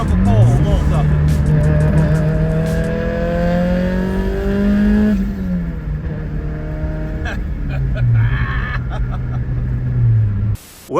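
Turbocharged Chevy Cruze with a FuelTech FT550 engine management setup revving hard during a pull, a loud, close engine note climbing steadily, dropping at a shift, then climbing again before cutting off abruptly.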